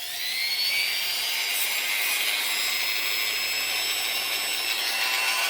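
An oscillating power tool runs on a Suaoki 400W lithium solar generator, giving a loud, steady, high-pitched buzzing whine that holds unbroken from start to finish.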